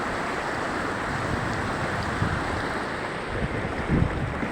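Rushing flood water in a stream being crossed on foot, a dense, loud, steady roar of churning white water with wind buffeting, constant throughout with no speech.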